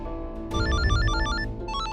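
Telephone ringing in a home, a loud, steady electronic ringtone melody with repeating tones, heard alone without talk.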